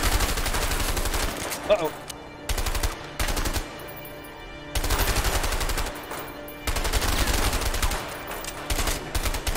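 Bursts of rapid gunfire and shooting from the video game A Way Out, several loud volleys separated by short gaps, with a brief spoken exclamation in between.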